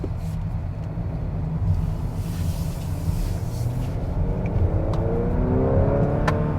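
A 2021 Honda Accord Touring 2.0T engine revs and accelerates steadily, a loud continuous rising drone with climbing pitch toward the end, no voices.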